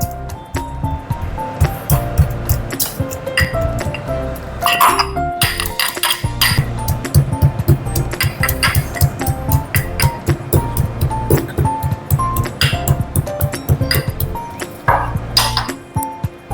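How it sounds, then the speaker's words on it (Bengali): Ginger and cardamom are crushed for milk tea with repeated clinking metal knocks and taps, close and fairly loud, in an uneven steady rhythm. "আর এই যে আদা, এই আদাটা আমি থেতো করে নিই।"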